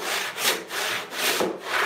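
A hand saw resaws an 8-inch-wide walnut board in four steady, rasping back-and-forth strokes, loud and close with a rhythmic push-pull swell.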